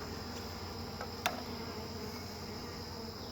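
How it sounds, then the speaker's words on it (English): Faint, steady insect buzzing hums at a newly installed beehive, with a brief louder buzz as a bee passes close; soft, continuous, with no talking. "I've actually seen 2 or 3 of the little bees go in through their hole."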